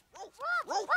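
A human voice imitates a dog, giving a few short, tonal woofs and howl-like barks in quick succession, close and moderately loud.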